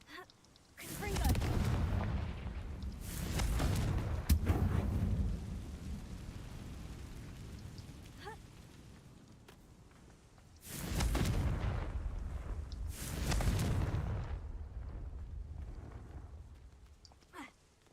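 Fire-spell explosions in the Hogwarts Legacy video game, two pairs of heavy booming blasts with rumbling tails separated by a quieter lull, fairly loud and close.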